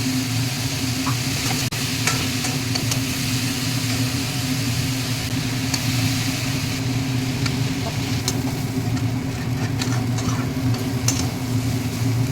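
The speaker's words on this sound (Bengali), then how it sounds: "একটু আবার তেল দিয়ে দিচ্ছি, কারণ এটা ভালো করে ভাজতে হবে।" Taro flower paste frying in oil in a pan, with a constant loud sizzle and bubbling throughout, broken by occasional light scrapes and clicks of stirring, close and continuous.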